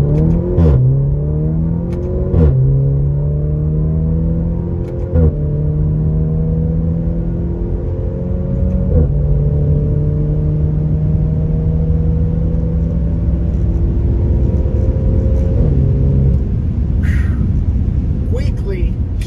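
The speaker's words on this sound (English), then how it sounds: "Let's do a quick speed test here. So we'll stop at 0 and launch it." A turbocharged 325-horsepower car launches from a standstill and accelerates hard, its engine note climbing in steady pitch sweeps broken by gear shifts, loud and close over a constant road rumble, with a person talking at times.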